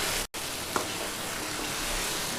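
Fried chicken tikka pieces are added to biryani masala in a pan, producing a steady close hiss of sizzling broken only by a brief gap.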